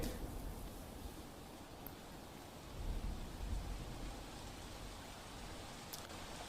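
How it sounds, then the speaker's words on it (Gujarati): Steady heavy rain pours down in Gandhinagar in a dense, continuous hiss, with a brief low swell partway through and no voices. "ગાંધીનગરમાં ધોધમાર વરસાદ છે"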